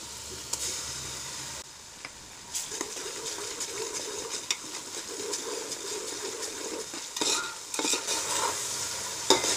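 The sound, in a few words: frying caraway seeds and ginger-garlic paste for chicken tahari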